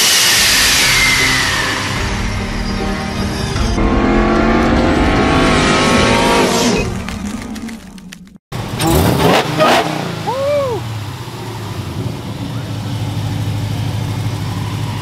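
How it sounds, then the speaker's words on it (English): Loud car engines rev and roar at a Mopar burnout contest at Holley Moparty 2021, with sustained high-revving engine noise and tire-spinning hiss, a brief cutout, then more revving up close. "we are about to start the burnout contest at Moparty"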